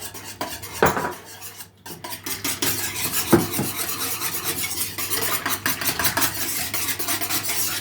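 A spoon works through a roll filling mixture in a bowl, with repeated scraping and clinking of metal against the dish and a dense, textured rustle, close up and continuous.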